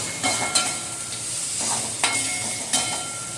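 Okra sautés in a hot pan for a buttermilk curry, sizzling in a close, steady hiss, broken by several brief bursts as a utensil stirs and turns the pieces.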